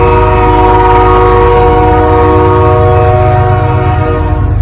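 BNSF freight train on a class 1 main line blowing a loud, sustained multi-tone horn as it passes close by, the chord holding steady over the deep rumble of the cars.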